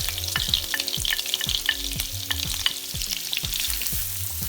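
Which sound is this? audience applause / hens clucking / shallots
shallots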